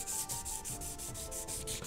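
Rhythmic back-and-forth sanding of a metal sword blade, loud close-up abrasive strokes repeating about four times per second with no voices.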